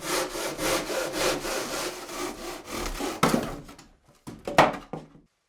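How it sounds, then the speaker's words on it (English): A conventional handsaw cuts through a faux wood beam in steady rasping back-and-forth strokes, close and fairly loud, ending with a few slower rough strokes and a thunk. "The beams can also be cut with a conventional handsaw."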